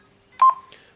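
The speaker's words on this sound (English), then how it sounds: "you can probably hear the ECU in the background beeping" A PowerBox turbine ECU beeps, ready for ignition: a short, clear electronic tone in two quick pulses followed by a fainter trailing beep, heard alone against a quiet background.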